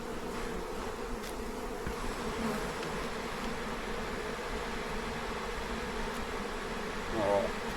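Honey bees buzzing around an open hive during an inspection, a steady close drone of many insects that holds for several seconds, with a faint voice now and then underneath.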